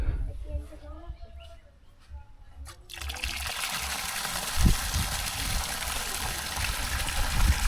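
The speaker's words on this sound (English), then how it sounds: "It's a water pump." After quiet with faint voices, a steady rushing of flowing water starts abruptly and continues loudly, a constant broadband hiss with a low mechanical rumble.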